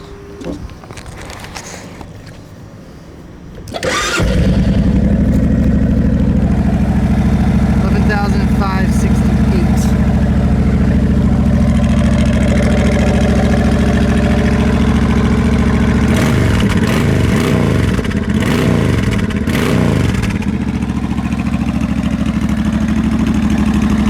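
A 2006 Suzuki Boulevard C90T motorcycle starts up and settles into a steady, loud, deep idle that runs close and continuous for about twenty seconds, with a brief throttle blip partway through.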